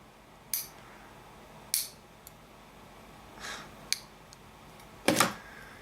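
Toenail clippers, repurposed as cutters for HO scale model railroad layout work, make about five crisp, separate snips at uneven intervals against a quiet room background.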